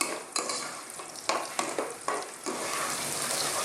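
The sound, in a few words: ingredients for fish head curry frying in hot oil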